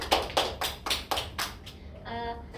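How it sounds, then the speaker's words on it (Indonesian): A class claps together for a pupil: six or so loud, evenly spaced group claps close by, then they stop and a faint tonal sound lingers. "Kita beri tepuk tangan."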